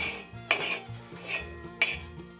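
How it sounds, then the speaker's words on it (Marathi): Fresh green pigeon pea grains roasting on a flat iron griddle, with sharp metallic scrapes and clinks of a spatula against the pan at intervals, over a soft, steady background of dry cooking sounds. "आपण त्याच ताव्यावर दाणे भाजून घेऊ दाणे सुद्धा आपण नरम होईपर्यंत भाजून घेऊ"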